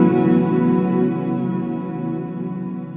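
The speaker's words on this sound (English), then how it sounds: "Strymon Night Sky is an extremely cool reverb pedal that incorporates pitch shifting in" Strymon NightSky reverb pedal with pitch shifting, producing a sustained, shimmering wash of layered tones that slowly decays over three seconds with no talking.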